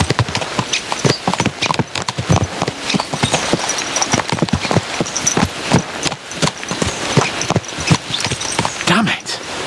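Horses gallop in Kingdom Come: Deliverance II, a fast, steady clip-clop of hooves running through the whole stretch, loud and close, with a voice talking over the hoofbeats.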